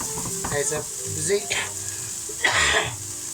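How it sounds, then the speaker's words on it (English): Food frying in a pan of vegetable oil for an American chilli dog, a steady sizzle running throughout with louder bursts, while a person talks over it. "So I just want to fry these off"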